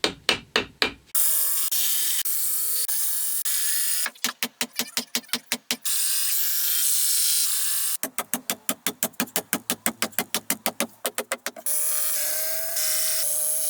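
Bursts of rapid hammer blows on wooden noggins between loft joists, fast and evenly spaced, come in three runs separated by gaps with a lingering ringing tone.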